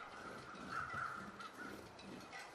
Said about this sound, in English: Is that weather crows or just the carcass crows?